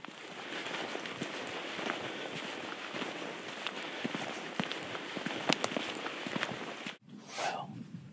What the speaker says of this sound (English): still cloudy, a little bit of rain